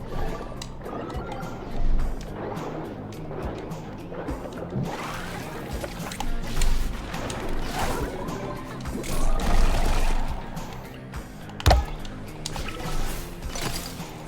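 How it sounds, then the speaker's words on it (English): Watery splashing and sloshing from swimming in the platformer Grapple Dogs: Cosmic Canines, mixed with busy game music and effects at steady loudness, with a sharp hit near the end. "Oh, I'm in the water. Yes, there's also swimming."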